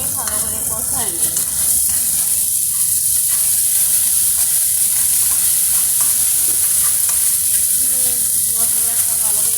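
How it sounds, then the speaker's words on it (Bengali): Spice paste of garlic and ginger frying for a rohu fish curry hisses loudly and continuously, with scraping stirs over the dense sizzle close to the pan. "মশলাটা ভালো করে কষাই নিচ্ছি"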